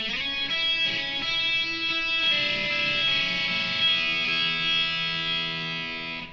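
A distorted electric guitar plays an open-string lick from a solo, bright and sustained with chorus-like shimmer, notes ringing into one another with no voices present.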